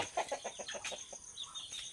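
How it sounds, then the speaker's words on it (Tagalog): Several chickens cluck in short repeated bursts at moderate distance, with a faint higher bird call near the end. "madami din dito mga manok"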